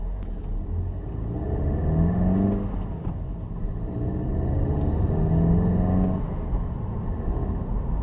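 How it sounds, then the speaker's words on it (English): A 2017 Volkswagen GTI MK7 engine hums and rumbles steadily while driving, rising in pitch as it accelerates, with constant road noise throughout. "So let's drive my new Volkswagen"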